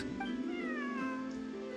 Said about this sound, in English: I believe this cat belongs to me.